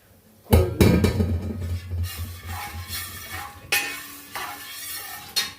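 Cashews sizzle and crackle in hot ghee as a spoon stirs and scrapes the pan, with occasional metallic clinks; no one speaks.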